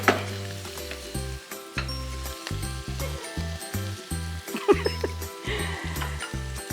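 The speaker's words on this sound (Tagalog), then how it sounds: "So now you can mix the bacon now with all the ingredients." Bacon frying and being stirred with mushrooms and other carbonara ingredients in a pan, a steady loud sizzle with repeated scraping stirs, while background music plays throughout.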